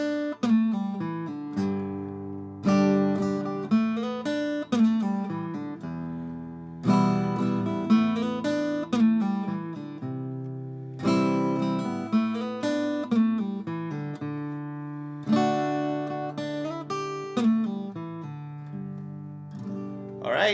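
Close, clean guitar alternating struck chords with a short melodic lick after each, in a repeating rhythmic pattern of attacks and decays, with no talk over it.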